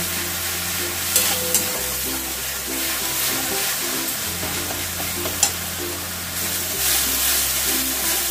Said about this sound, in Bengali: এক মিনিটের মতন আমি এই মশলাগুলোকে একটুখানি কষিয়ে নেব।